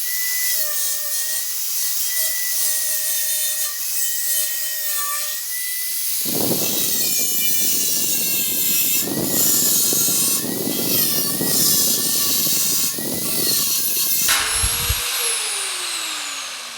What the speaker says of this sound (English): go ahead and cut along this. I've got a smaller cutoff wheel.